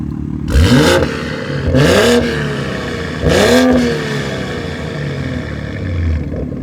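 A BMW M340i with a B58 engine and high-flow catted exhaust revs hard three times in quick succession, each rev rising to a loud, raspy exhaust roar before dropping back to a rumbling idle.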